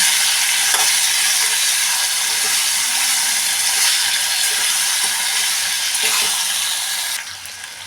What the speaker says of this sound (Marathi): ह्या पेरूच्या फोडी टाकून परतून घेऊया फोडी होऊपर्यंत परतून घ्या